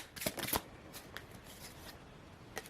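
A deck of tarot cards shuffled by hand: a brief close riffle of papery flutters at the start, then softer sporadic card slides and taps, quiet, with no talk.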